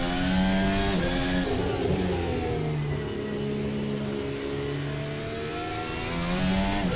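A Formula 1 car in a racing video game, driven as Charles Leclerc's car at the Hungaroring in Hungary, screams under acceleration with rising, shifting engine harmonics, loud and close throughout with no talk.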